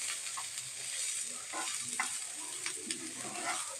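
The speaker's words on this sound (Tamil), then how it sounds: "வெங்காயத்தை நல்லா ஃப்ரை பண்ணிக்கலாம்" Chopped onions sizzle steadily in hot oil, tossed in after mustard seeds and cumin have spluttered, for a tapioca adai batter. The frying hiss is close and continuous, with a few soft stirring clicks and no talking.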